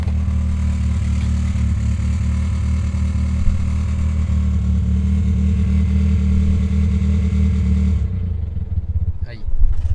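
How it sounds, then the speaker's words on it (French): An Audi engine with a rattling timing chain idles loudly up close, a steady low drone with metallic chatter running through it, then the tone shifts near the end. "Ça, c'est un bruit de chaîne, ça."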